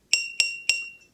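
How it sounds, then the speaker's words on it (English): A stick strikes a glass jar three times in an even rhythm, each bright ringing clink decaying quickly, close and clear with no talking over it. "I wonder if we can make some sound out of these jars."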